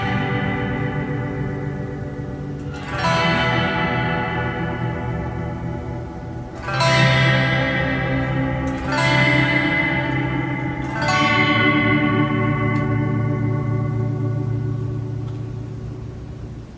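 Strummed guitar chords swell in slowly through the pad effect of an Enya NEXG 2 smart guitar, four soft, reverberant chords each fading in and ringing out in a lush, sustained wash, with no talking.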